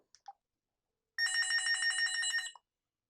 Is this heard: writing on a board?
no